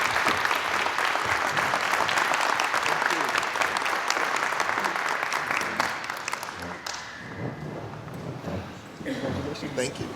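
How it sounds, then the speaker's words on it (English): A crowd at a high school alumni honors ceremony gives sustained, dense applause that fades slightly toward the end, with scattered voices mixed in. "Let us give a Mustang round of applause for Mercurio Martinez III"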